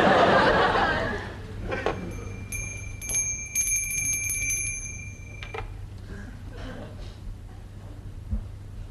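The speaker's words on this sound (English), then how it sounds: "Aren't you going to ask me why I rang the bell?" A bell rung indoors in a comedic manager-training sketch: several bright, ringing chimes over about three seconds that sustain and then fade, with a voice and light laughter near the start.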